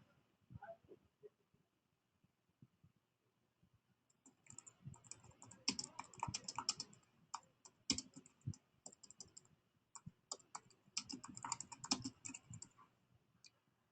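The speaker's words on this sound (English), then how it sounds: "I'm just going to write some quick text to it." Keys clacking on a computer keyboard while text is typed, a few scattered taps at first and then dense bursts of rapid clicking, close and fairly quiet.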